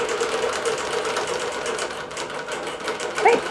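A computerized quilting machine stitching cotton quilt tops on Northcott Stonehenge fabric, giving a steady rapid mechanical whir and needle patter, close and continuous.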